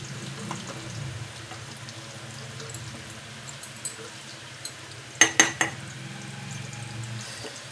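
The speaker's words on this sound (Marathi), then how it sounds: "थोडंसं असं फिरवत राहायचं चमच्याने." Homemade herbal hair oil heating in a pan and stirred with a spoon, a quiet low simmering bubble under a few metallic clinks, with a cluster of three sharp spoon-on-pan knocks near the end.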